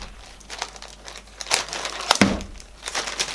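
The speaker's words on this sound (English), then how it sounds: "So it comes in a wee plastic sheath. Take the tape off of" Tape is peeled off the thin plastic sheath of an HP Pavilion 14-inch laptop during unboxing, faint close crinkling and rustling with a few sharper crackles and a quick ripping pull, without talk.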